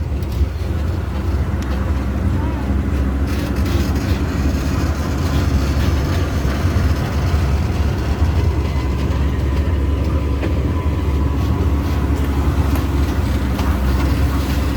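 A steady, continuous rumble of an open tour tram rolling along on Kauai, Hawaii, heavy low-frequency drone throughout with no talking.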